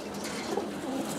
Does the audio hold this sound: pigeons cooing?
yes